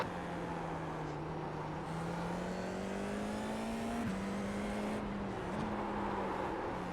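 A race car engine in a racing video game drones steadily at high revs, holding a constant loud whine with brief dips at gear changes, heard close throughout with no break.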